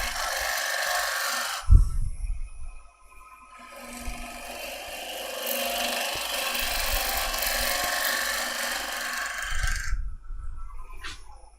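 Woodturning gouge cutting a spinning wooden blank on a lathe, roughing away waste and throwing fine ribbons, a steady rasping scrape sustained for several seconds between brief pauses and knocks, close and moderately loud with no talk.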